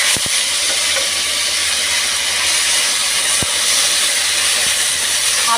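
Chopped onions added to hot oil in a home kitchen pan, after potatoes were fried, give a steady loud broadband sizzle with a few sharp clicks, continuous throughout with no talk.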